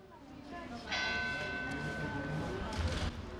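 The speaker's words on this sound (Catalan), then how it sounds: "Mentre sonaven les campanes que anunciaven les 12" Church bells in a town square ring out the twelve o'clock noon hour, a bright sustained clang starting about a second in and continuing steadily, with a low murmur of ambient noise underneath.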